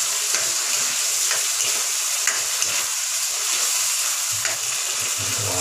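Tomatoes sizzle in a frying pan for shakshouka while being stirred, a loud, steady close frying hiss with scraping stir strokes, and no talk over it.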